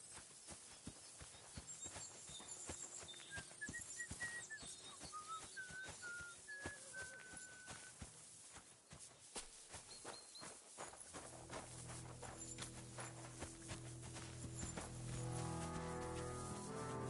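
Horses clip-clop at a steady walking pace in the medieval game Kingdom Come Deliverance 2, alongside whistled melodic notes and bird chirps, then a low sustained drone and soft music swell toward the end.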